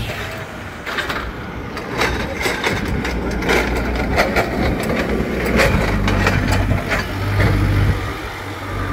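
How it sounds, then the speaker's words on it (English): Trucks from a supply barge arriving on Carriacou after Hurricane Beryl: a steady, fairly loud diesel engine rumble idling and rolling nearby, continuous throughout with clattering transients. "More trucks from the barge."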